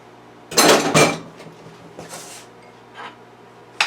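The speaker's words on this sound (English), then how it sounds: "So I'm going to put the cut asparagus in the pan." Cut asparagus spears dropped into a roasting pan, giving two loud clattering bursts close up, then a few softer knocks and a final sharp clink against the pan.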